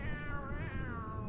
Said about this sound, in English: cat, dude.